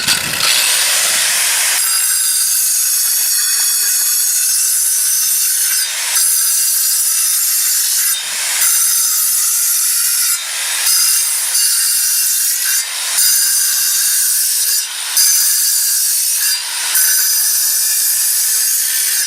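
A power saw grinds loudly and continuously through concrete block, its harsh high whine dipping briefly every couple of seconds before resuming.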